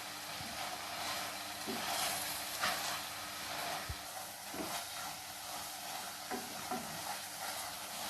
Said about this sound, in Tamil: நம்ம கீரையை இதில் சேர்த்திடலாம். 2 நிமிஷத்துக்கு இது அப்படியே நல்லா வதக்கிக்கலாம்.